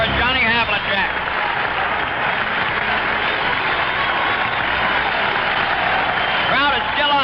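Arena crowd at a 1974 Boston Celtics game applauding and cheering John Havlicek's 20,000th point, a loud sustained roar on an old broadcast recording, with an announcer talking over it.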